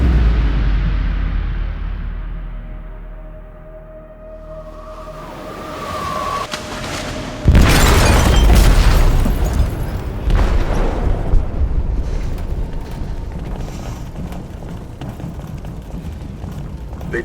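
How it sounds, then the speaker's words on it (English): A large explosive detonates in a ship's hold in Detroit: Become Human, a sudden loud boom around eight seconds in that rolls into a long, heavy rumble and crashing debris, following a quieter stretch of low drone and hum. "They detonated an explosive in the hold."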